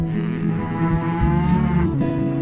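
Texas Longhorn cattle moo at close range, several deep, drawn-out calls overlapping one another, loud and steady through the whole stretch with no talking.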